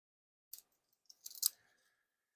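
Scissors cut a piece of material, likely vinyl or decal stock, for detailing a Boba Fett-themed HJC helmet. A few quiet, close snips and crisp rustles sound in short bursts against near silence.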